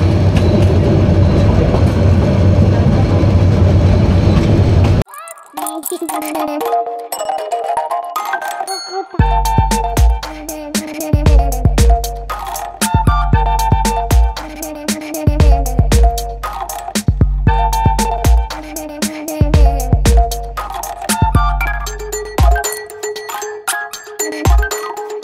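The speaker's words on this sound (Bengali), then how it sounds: "আজকে আমরা যাচ্ছি ঢাকা থেকে চিটাগাং সুবর্ণ এক্সপ্রেসে করে" The Subarno Express running from Dhaka to Chittagong gives a loud, steady rumble for several seconds, then gives way to clear ringing chime-like tones that repeat over a fainter background with no talk.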